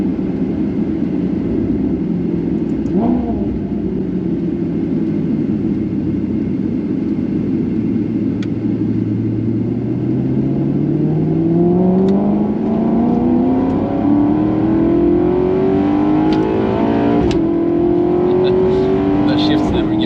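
A Maserati GranTurismo MC Stradale accelerates hard on track, its engine note climbing steadily through the gears with brief drops at each shift, loud throughout, while people talk inside the cabin.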